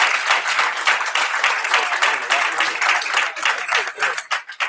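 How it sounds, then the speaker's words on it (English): An audience at a guest entrepreneur panel applauds the panelists, dense steady clapping filling the room for several seconds before thinning out near the end. "let's give a round of applause for our panelists"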